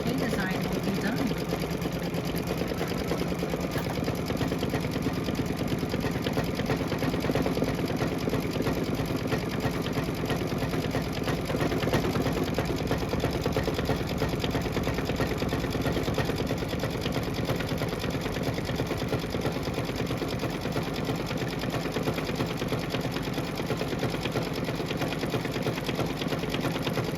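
An embroidery machine stitches an appliqué design of trees and lettering on a Kimberbell pillow panel, a steady, rapid mechanical whirring and needle chatter running continuously at even loudness.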